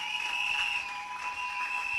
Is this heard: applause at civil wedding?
yes